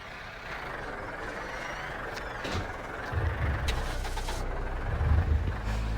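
A tractor engine rumbles and revs while shoving cars around, with low thumping surges and scraping clanks of metal over a steady mechanical drone, heard close with no speech.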